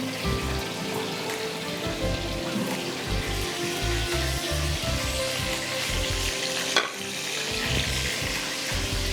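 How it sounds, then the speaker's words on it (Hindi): Chicken cutlets fry steadily in hot oil for a recipe, a dense continuous sizzle and crackle that runs close and loud throughout, with a brief clatter near the end and no talking. "फ्राई करते जाइए"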